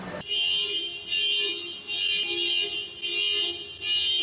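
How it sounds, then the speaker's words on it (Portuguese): A car alarm blares in a repeating cycle of loud, steady high-pitched tones with short breaks, five bursts in about four seconds, close by on a street where a motorcycle rider has stopped. "eu passei perto do carro e misteriosamente o alarme do carro ativou"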